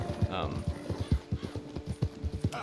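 Horse hooves clip-clop in a steady, fairly close trotting rhythm in the video game Red Dead Redemption 2, with a person talking over the hoofbeats.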